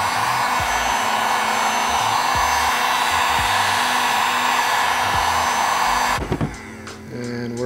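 A heat gun blows hot air onto a homemade shoe sole protector to soften it. The close, loud, steady whooshing roar holds for about six seconds, then switches off and leaves faint handling sounds.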